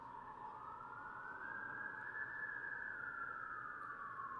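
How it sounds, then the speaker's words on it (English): A processed siren sound effect, cleaned of artifacts, plays alone as one steady wailing tone that climbs slowly in pitch, holds near its peak, then eases back down. It stays loud and continuous throughout, with no talking. "Now, that Siren has a lot of artifacts"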